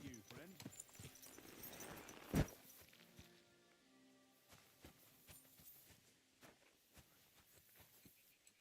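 Horse hooves clip-clopping on the ground in a video game, a series of soft, evenly spaced thuds that are faint and close, with a sharp knock early on and a voice speaking over them.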